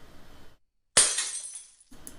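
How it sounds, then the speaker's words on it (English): Glass smashes in one sharp, loud crash, followed by about a second of bright shards tinkling and scattering as the sound decays, with nothing else around it. "So I'm looking for a CC0 of smashing glass."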